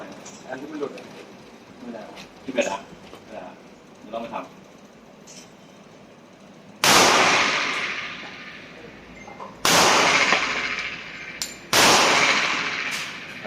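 A Rock Island 1911 A1 .45 pistol with a 5-inch barrel fires three loud, sharp shots at an outdoor range, each with a ringing echo tail, after a stretch of quieter talk and handling noises.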